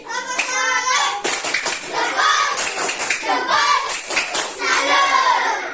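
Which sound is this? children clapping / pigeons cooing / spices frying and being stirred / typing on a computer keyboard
children clapping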